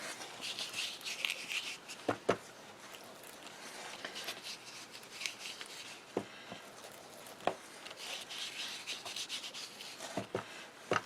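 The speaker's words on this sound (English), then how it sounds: "I'm going to take the Distress Vintage Photo ink and rub all over it" Distress Vintage Photo ink being rubbed over a faux leather panel for a handmade card: a steady soft scratchy rubbing, close and quiet, with a few sharper taps as the applicator is lifted and set down.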